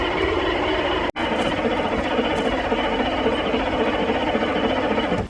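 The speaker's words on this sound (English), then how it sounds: "we'll give it a crank, see what it does" A turbocharged Ford 6.9 IDI diesel engine cranks over steadily with a dense, rapid mechanical churn, broken by a brief dropout early on before cranking resumes and continues.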